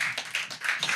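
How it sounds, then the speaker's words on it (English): Audience clapping at a live open-mic show, a brief burst of hands clapping in uneven pulses, fairly quiet and close, with no talk over it. "Well, y'all are already clapping."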